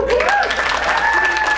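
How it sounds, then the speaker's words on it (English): A keynote audience at Podfest 2018 breaks into steady, dense applause, with a voice carrying over the clapping. "I need you to clap it up."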